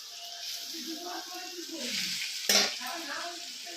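Shredded cabbage stir-fried in a pan for veg chowmein, with a steady close sizzle and scraping stirs, a sharp clatter of utensil against pan partway through, and faint talk in the background.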